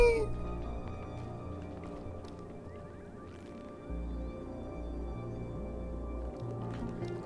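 A critter in Oxygen Not Included gives a short meow-like cry in a new Aqua DLC colony, faint and brief over steady looping game music with no talk.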